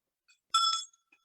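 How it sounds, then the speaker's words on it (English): A small bell is struck once, giving a bright, ringing chime that is fairly faint and dies away within a few tenths of a second against near silence. "She's ringing the bell first."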